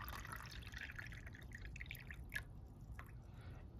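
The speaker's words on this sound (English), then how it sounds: "fill this shit up with water" Water running into a small plastic tray for a bath bomb, a quiet continuous trickle and dripping with a low background rumble.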